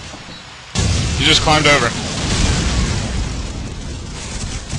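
Grenade explosion in the first-person shooter Call of Duty 4 during a competitive match, a sudden loud boom that rumbles and decays over several seconds while a player talks over it.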